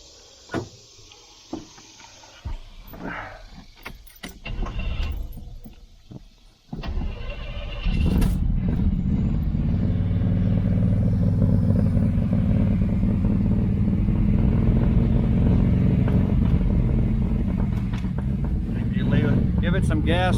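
A carbureted engine in a 1982 Chevy El Camino cranks and catches after a few quiet clicks and knocks, then settles into a loud, steady, rough idle that runs on to the end.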